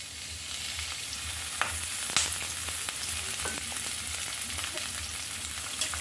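Stuffed pointed gourds fry in oil with a steady close sizzle, broken by a few sharp clinks and scrapes of stirring; no one speaks.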